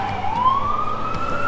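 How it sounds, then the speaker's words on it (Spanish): A close, loud New York City emergency siren wails upward in a smooth rising sweep, one emergency vehicle tone filling the short moment. "De ambulancias, de carros de bomberos, de la policía."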